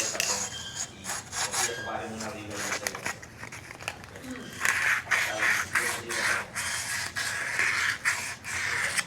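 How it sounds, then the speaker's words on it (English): The edges of a fresh cut on a bicycle frame build part are sanded and lightly chamfered, a scratchy, uneven rasping that comes in short and longer strokes close by, with talk running over parts of it. "We're going to sand it. I'm going to lightly chamfer the edges,"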